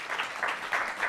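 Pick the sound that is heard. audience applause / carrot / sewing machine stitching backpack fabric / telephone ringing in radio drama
audience applause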